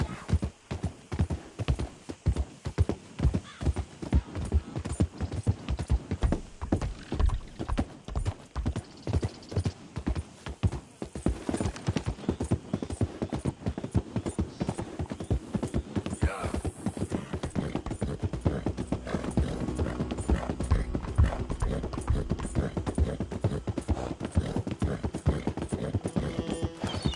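Horse galloping in the video game Red Dead Redemption 2, a steady run of rhythmic hoofbeats that starts fast and sharp, then blurs into a denser, rumbling stride, with a brief whinny and no talk over it.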